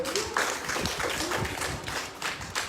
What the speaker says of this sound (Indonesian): Ya, kasih tepuk tangan buat Cindy dulu.